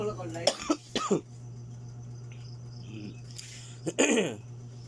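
Several sharp coughs come close to the microphone, a cluster early on and another burst near the end, over a steady low hum.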